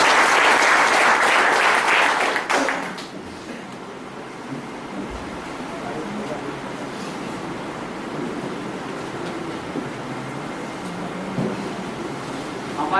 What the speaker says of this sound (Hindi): सर की एक जबरदस्त ताली